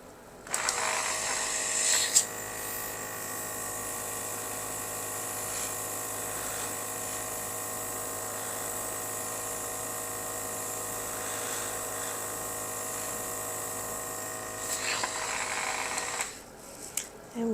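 An airbrush sprays colour through a layered stencil onto a decorated New Year's Eve cookie, a steady close hiss and motor whir starting after a click, holding evenly, then cutting off near the end.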